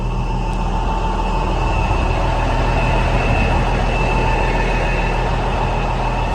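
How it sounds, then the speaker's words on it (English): Sugar beet harvester's cleaning turbines running on a farm, a loud, steady mechanical drone with constant low rumble and a sustained whine, unbroken throughout with no talking. "So these 2 turbines clean it, and then get it between the wheels into these 2 turbines on the back, which finally slip it onto the ring elevator."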